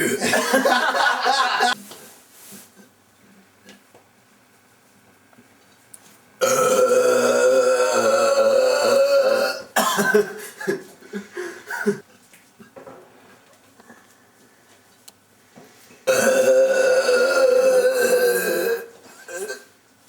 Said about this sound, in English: Is it the longer burp or the more powerful burp?